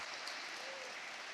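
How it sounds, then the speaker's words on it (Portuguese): Faint, steady applause from a church congregation, a brief even patter of many hands at a distance. "Você pode aplaudir o Senhor e ao nosso querido irmão"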